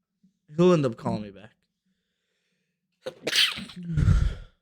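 A sharp, loud sneeze bursts out after a moment of quiet, preceded by a short spoken exchange nearby.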